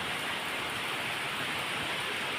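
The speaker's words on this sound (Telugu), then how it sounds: "వేసవికాలంలో వాన చూడండి" Steady rain pours in Hyderabad during summer, a broad, even hiss at constant loudness from start to finish, with no one speaking.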